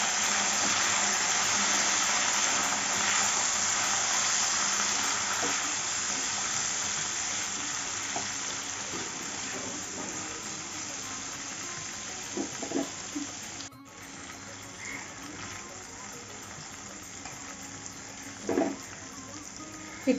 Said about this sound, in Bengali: দিয়ে এখন সিমটাকে ভালো করে ভেজে নেব।